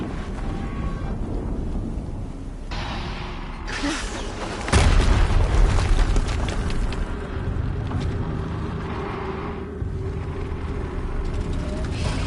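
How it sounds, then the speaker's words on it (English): An explosion in Horizon Zero Dawn: a steady, rumbling ambient bed breaks into a loud, deep boom about halfway through, then a heavy, lingering roar settles back into continuous noise. "Another explosion."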